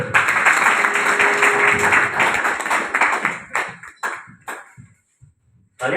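Audience at an RCM business seminar in India clapping loudly in a dense burst that thins into a few scattered claps and tails off into near silence.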